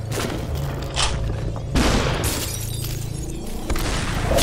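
Bursts of video game gunfire mixed with crashing, shattering impacts and booms, dense and loud in several clustered volleys across a few seconds.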